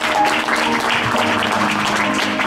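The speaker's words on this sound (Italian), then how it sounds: "L'applauso lo merita veramente forte" Wedding guests applaud at an Italian wedding reception, a sustained, loud round of clapping filling the room from start to finish, with no voices standing out.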